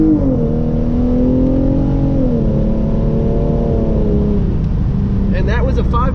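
Hyundai Genesis Coupe 3.8 launched from second gear, engine revving and climbing steadily in pitch under a loud close cabin drone, with a voice speaking briefly near the end.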